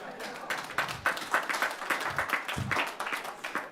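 An audience at a city council meeting claps in a light, scattered round of applause, moderately quiet, with a voice speaking over it.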